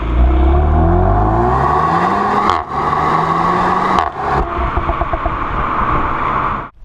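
A Renault Megane RS engine revs hard through its big central twin exhaust, pitch climbing in repeated pulls with brief cuts between, loud and close, ending in a quick drop-off; no voices.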